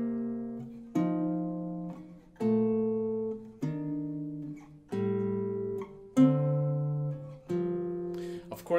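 Jazz guitar sounds two-note voicings, root and seventh, through a tune's chord changes: about eight clean, ringing dyads played one after another at a slow, even pace with no voices.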